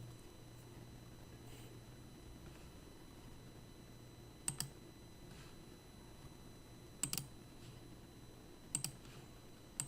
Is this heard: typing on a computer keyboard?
yes